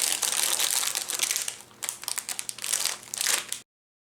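Plastic packaging of snowflake stickers crinkles and crackles as it is opened by hand, a close run of irregular rustling bursts that stops abruptly into silence.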